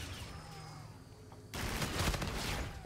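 Gunfire in a shooter game breaks out midway as a dense, continuous burst of rapid shots, loud and close, following a quieter stretch of background game ambience.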